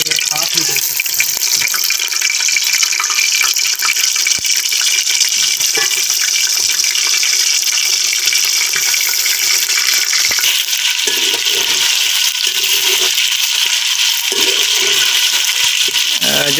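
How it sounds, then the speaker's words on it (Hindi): Pieces of fish frying in very hot ghee make a loud, steady sizzle that holds unbroken for the whole stretch, close by and with no talking over it. "मछली को फ्राई करते हैं। ध्यान से डालिएगा, घी बहुत गर्म है"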